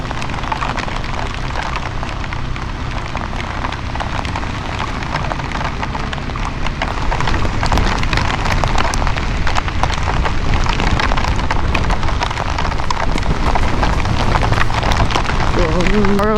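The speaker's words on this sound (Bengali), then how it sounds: "আর এখানে এরম বৃষ্টি হচ্ছে" Heavy rain in a storm near Dharchula, with muddy water rushing downhill: a loud, unbroken broadband roar of downpour and flowing water that holds steady the whole time.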